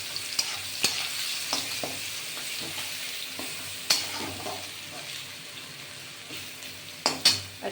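Food sizzles steadily in a pan as a garlic, ginger and green chilli paste fries while a utensil stirs and scrapes, with sharp clinks at irregular intervals.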